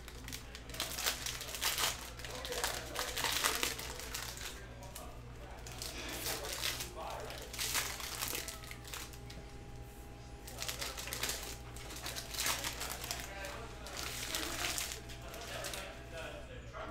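Prizm football trading card packs are torn open by hand, with crinkly foil wrappers rustling and ripping close up in repeated bursts while a person talks over the crackling.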